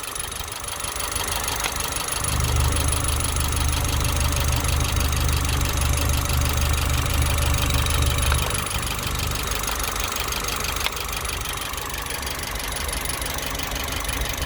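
A BMW X1 engine idles with a steady low rumble and a persistent rhythmic knocking from the engine, loud and close, with no voices.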